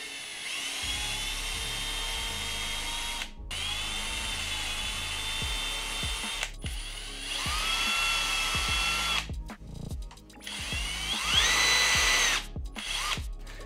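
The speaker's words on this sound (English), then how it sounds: "All you need for that is your drill, and your 1/8 inch drill bit." A power drill fitted with a 1/8 inch bit enlarges the mounting holes on a robot kit, whining loudly in several long bursts separated by brief pauses, with the pitch rising as each burst starts.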